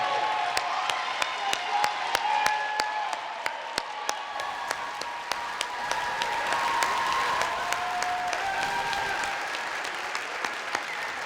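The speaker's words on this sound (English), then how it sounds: "give them a round of applause for all the hard work that they do" Steady applause from a large audience at a high school commencement ceremony, honoring the forum leaders, with dense clapping that holds evenly for about eleven seconds and carries no talk over it.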